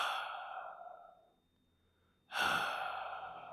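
A voice imitating the breathing of a UFO, like someone lying down and breathing: one long sighing exhale that fades out, a short pause, then a sharp, loud inhale-like rush that trails off.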